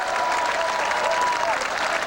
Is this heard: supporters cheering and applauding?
yes